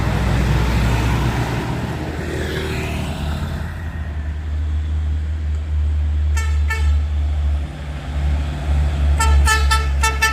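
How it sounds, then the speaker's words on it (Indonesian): A tanker truck on a steep hill road at Bukit Kodok rumbles loudly with a heavy low engine drone. Several sharp horn toots follow near the end, close by and alone, with no talking. "Bukan main truk tangki bosku."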